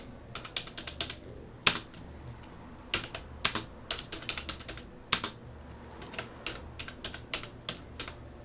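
Keys clatter on a computer keyboard as code is typed, close and crisp, in irregular bursts of rapid clicks with short pauses between, with no talking over it.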